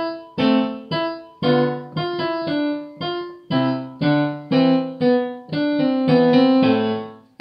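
Bourrée line 1 is played at a faster tempo as a melodic instrumental line of clear, evenly articulated notes, each attacking sharply and decaying, about a dozen in steady rhythm, close and alone without talk.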